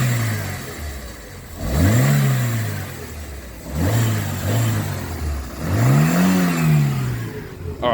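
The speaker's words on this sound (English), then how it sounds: "I'll rev the engine" A small Ford Ka car engine revs up three times in quick succession, each rise falling back to a steady idle, close and loud.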